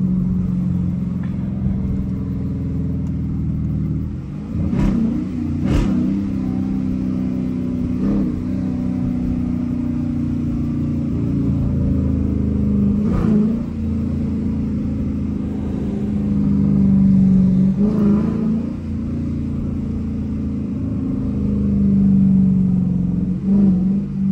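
A Dodge Challenger R/T engine revs hard through fast pulls, with a steady loud rumbling drone, repeated rises in pitch and brief gear-change breaks, heard from inside the car with no talking.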